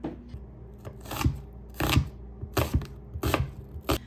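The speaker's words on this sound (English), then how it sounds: "you don't have to chop it really fine because we're gonna be blending this all together later" A knife chops Roma tomatoes for a sauce: a series of sharp, close thuds on a cutting board, five or six strokes at an uneven pace.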